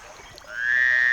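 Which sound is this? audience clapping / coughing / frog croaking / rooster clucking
frog croaking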